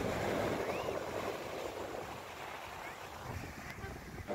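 Sea surf at Alappuzha beach in Kerala: a steady, soft wash of waves with some wind noise, continuous and fairly faint throughout.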